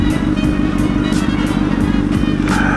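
A sportbike engine drones steadily and loudly while the motorcycle is ridden, with wind rush on top and soft periodic thumps. No one speaks.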